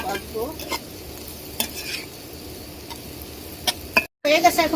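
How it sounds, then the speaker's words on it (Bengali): Sliced onions fry in hot oil in a home kitchen, a soft, constant sizzle under repeated scrapes and clinks of a spatula stirring the pan, with a short silent gap near the end. "পেঁয়াজটা ভেজে নিব"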